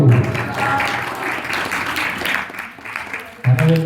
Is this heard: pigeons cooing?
no